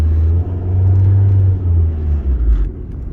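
A 2007 Ford Focus with a shifting fault holds first gear while driving, giving a loud, steady low engine drone and road rumble that swells and dips slightly, with no talk over it.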